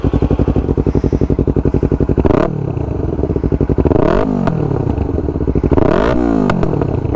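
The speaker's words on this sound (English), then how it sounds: "Lots of backfiring on this little exhaust." Yamaha R3 motorcycle engine idles with a rapid, lumpy thump, then revs several times, crackling and popping loudly from the small exhaust as it backfires and settles.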